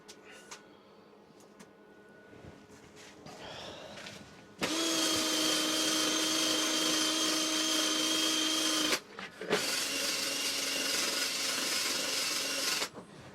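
A power drill whines in two long bursts, the first about four seconds and the second after a short pause, loud and close.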